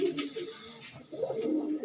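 Flying-breed Andhra pigeons coo in soft, throaty bursts at close range, two short phrases with a brief pause between them.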